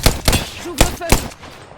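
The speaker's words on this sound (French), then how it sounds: "J'ouvre le feu." Rapid bursts of gunfire in the video game Apex Legends, four or five loud sharp shots in quick succession with brief metallic game tones between them.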